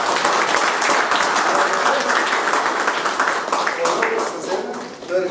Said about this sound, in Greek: Το θερμό σας χειροκρότημα